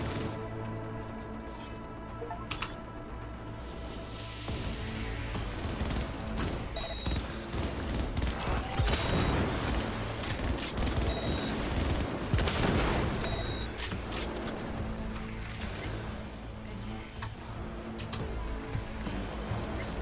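Rapid gunfire and crashing in a Cyberpunk 2077: Phantom Liberty firefight, with dense bursts and impacts running steadily over about twenty seconds under a thick layer of game sound.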